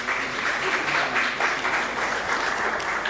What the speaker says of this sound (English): with your huge round of applause